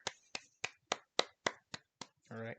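Hand claps on a podcast recording, about eight sharp, evenly spaced single claps in a slow rhythm, close and quiet, followed by a short burst of voice at the end.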